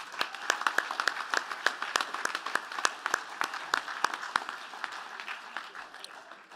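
An audience at the 2023 Vanderbilt Athletics Hall of Fame ceremony applauds steadily, a sharp sequence of distinct claps over a continuous bed of clapping that lasts several seconds before fading slightly.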